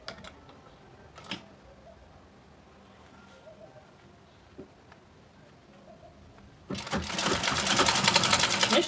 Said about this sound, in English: Make sure your machine is on tight stitch.